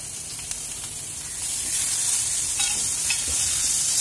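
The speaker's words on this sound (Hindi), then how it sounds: "पांच सेकंड के लिए भूनेंगे।" Chili powder, turmeric and salt fry in hot oil with a steady, dense sizzle that grows louder partway through. A few faint stirring scrapes sound beneath the close, continuous hiss.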